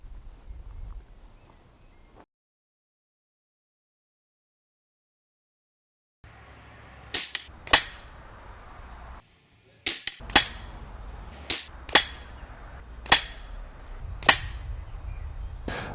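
Walther Terrus air rifle firing at a 25 metre target, with about seven sharp, close cracks coming at irregular intervals after a quiet stretch, each followed by a faint metallic ring.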